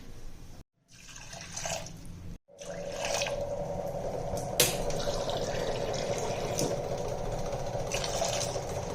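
Water is poured from a glass onto dal soaking for sambar, a steady running trickle and splash at moderate volume, broken by two brief silent gaps early on.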